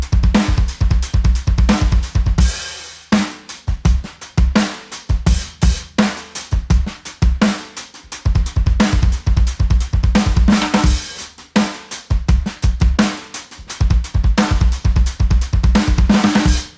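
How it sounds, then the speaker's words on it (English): Drum kit playing a fill groove with dense sixteenth-note hits, punchy kick and snare with cymbals, loud and close, busy driving pattern with brief breaks between phrases. "Fill groove number 7 sounds like this."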